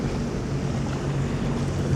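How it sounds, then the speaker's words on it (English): A large ship moving through the water near the wall at Port Colborne, giving a steady, loud rush of churning water and low rumble under gusty wind noise, with no talking. "the ship is now pushing the water"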